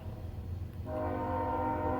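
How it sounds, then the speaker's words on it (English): A train horn starts partway through and holds a steady, sustained tone over low rumbling background noise. "Of course, there's the train whistling off."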